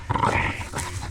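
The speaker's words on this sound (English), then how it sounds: "Sweet, innocent dog." Dog growling and vocalising at close range, a short rough rumble with a brief yip, indoors during a house renovation.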